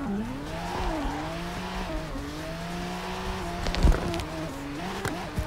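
A low-powered Mazda Roadster spins out while drifting on the NRing course in CarX Drift Racing 2, its engine droning and wavering in pitch before sharp tire squeals and a skid near the end.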